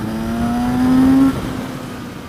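A Kawasaki Z900RS motorcycle in second gear pulls a roll-on acceleration onto a highway, the engine note rising steadily and loudly before the throttle eases and it drops to a lower drone, with no talking.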